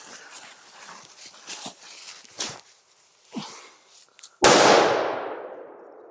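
A firecracker goes off in a forest with one sharp, loud bang and a long, fading echo. Several quieter knocks and thumps come before it.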